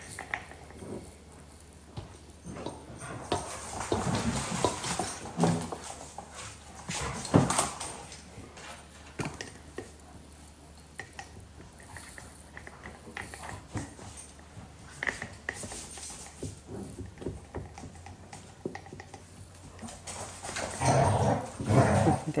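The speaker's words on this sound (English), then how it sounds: "Labradors, they get playing and it sounds like they're killing each other sometimes." Labradors play roughly indoors with growls, yelps and whimpers, loud bursts of snarling and scuffling that come and go over a steady background, with paws pattering and a door knocking now and then.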